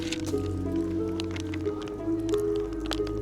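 A splash of lake water poured out as an offering to a Lithuanian god during a village ritual, a soft wet squishing trickle over a steady low outdoor hum, with no talk.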